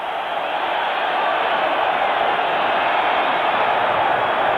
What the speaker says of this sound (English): the roar of the crowd making it difficult for the referee to indicate that the game should be restarted